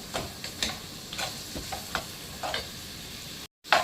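Ginger garlic paste and mint sautéing in a pan for vegetable biryani, with repeated soft scrapes and stirs about every half second over a faint steady sizzle, close and quiet, ending in a brief dropout.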